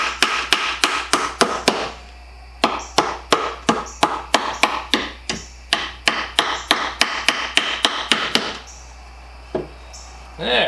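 A ball peen hammer strikes a nail over and over, sharp close metallic taps in quick rapid bursts with brief pauses between runs.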